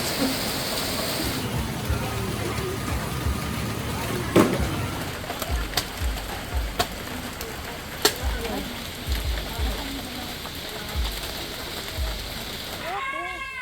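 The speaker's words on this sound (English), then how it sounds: "It's raining." Steady rain hisses across an outdoor spot by a large balete tree on a road trip to Baler, Aurora, a continuous wash with scattered louder drips and knocks, while people talk.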